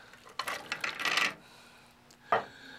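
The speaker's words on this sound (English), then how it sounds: "And in go the potatoes." Cut potatoes dropped into a soup pot, a cluster of quick knocks and clatters against the pot, then a pause and one last louder clunk.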